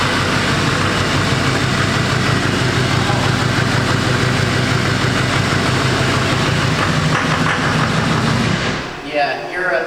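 Duramax LML diesel engine running rough with injectors not firing properly, a loud, steady, low rumbling drone close by that cuts off abruptly near the end.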